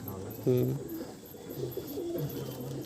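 Andhra pigeons from a collection coo in a few soft, low, rolling phrases, close by, with faint bird chirps in the background.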